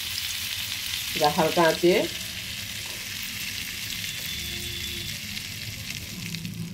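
Bread slices fry in white oil with a little butter in a steady, moderate sizzle, while a short spoken phrase rises briefly over it near the start.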